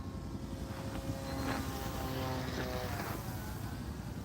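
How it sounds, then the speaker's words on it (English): A helicopter drones steadily through the whole stretch, flying near a field where giant RC planes are flown, a constant engine and rotor hum with no voices. "And I hear a helicopter."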